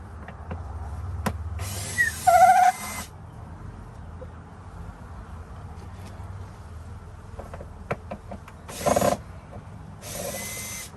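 A power drill backs screws out of an insulation panel in three short whirring bursts, separated by quiet gaps with light clicks and handling noises.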